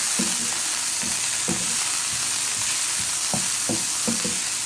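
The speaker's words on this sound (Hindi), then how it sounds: "इसको अच्छी तरह से सौटे करना, मिक्स करना।" Egg fried rice sizzles steadily in a hot pan while a spatula tosses and mixes it, giving soft intermittent scrapes over a constant loud frying hiss, close up with no voices.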